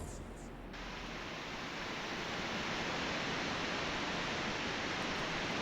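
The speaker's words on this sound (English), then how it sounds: "That waterfall noise is like" A waterfall in The Talos Principle video game pours in a steady, dense rushing hiss that swells slightly and holds constant throughout, with no voices.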